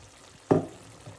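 Broccoli and carrots stirred in a pan for a beef broccoli dish, giving a single short scrape and sizzle burst that fades quickly against quiet background noise.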